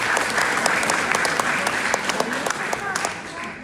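Loud, close applause from a Batak Christmas celebration audience, dense clapping with sharp individual claps standing out, sustained for several seconds and tapering slightly at the end.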